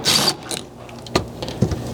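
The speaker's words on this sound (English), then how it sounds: "you'll need a 10mm socket to remove the single center bolt holding this in place" A 10mm socket ratchet clicks in a few short, close bursts while backing out a single center bolt on a GX 460 floor assembly, quiet with no talk.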